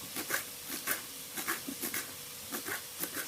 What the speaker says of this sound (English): Chopping up the coriander.